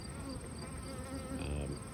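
Honey bees buzzing at a hive in an upstate New York apiary being set up for winter: a continuous, fairly faint insect hum with overlapping wingbeat tones, steady and close.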